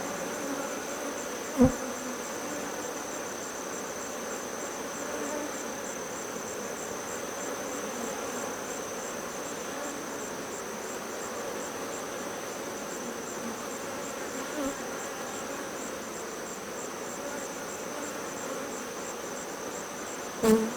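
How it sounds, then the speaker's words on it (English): A dense, steady buzzing of many bees around an Apimaye hive during a honey harvest fills the air without pause, with a couple of brief knocks near the start and end. "you can see the bees are around"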